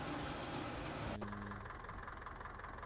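A tractor engine in Farming Simulator 2015 idles steadily, then the tone drops abruptly to a lower, quieter hum midway through.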